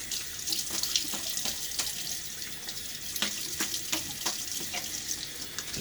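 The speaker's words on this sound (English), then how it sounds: "All right, real quick rinse." Tap water runs steadily into a bathroom sink for a quick rinse during a wet shave with a Gillette Rocket HD razor, a continuous splashing hiss with small clinks and taps of the razor against the basin, with no talking.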